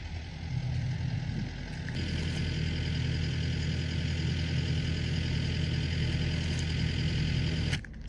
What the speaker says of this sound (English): So David's just driven her up on the gravel track, which is good all the way to Gorafe